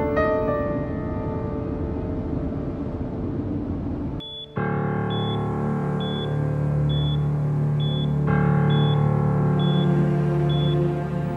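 A phone busy signal sounds as a string of short, evenly spaced beeps, repeating steadily over a continuous tonal background after a brief cut in the sound.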